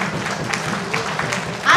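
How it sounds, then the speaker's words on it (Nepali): A church audience at a Christian gathering in Morang breaks into loud, steady applause, a dense wash of clapping close by that swells even stronger at the very end. "जोडतोड ताली।"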